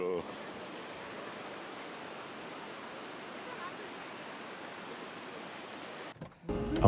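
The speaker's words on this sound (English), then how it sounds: "Waterfalls in the rain." Steady broadband rush of a waterfall pouring in the rain, a dense even roar held at constant level, then cutting off abruptly near the end to a brief quieter moment.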